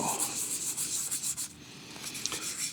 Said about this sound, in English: This will take any swirl marks from that sandpaper out